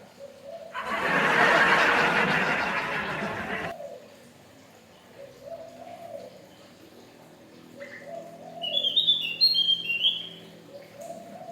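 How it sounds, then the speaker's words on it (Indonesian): A caged local robin kept at home gives a run of high, quick whistled chirps near the end, after a loud noisy burst and a soft low warbling early on. "Robin lokalan nih, tapi asik juga, lumayan buat temenin ngopi mah"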